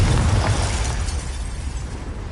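A Confringo fire spell blasts in Hogwarts Legacy, a loud, dense explosion that hits hard at the start and rolls out into a sustained rumbling roar across the rest of the moment.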